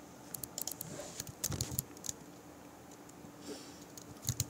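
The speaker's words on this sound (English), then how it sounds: "And I'm typing away right here." Someone typing on a computer keyboard, quiet irregular clusters of key clicks in short bursts with gaps between them, close but soft, and no speech.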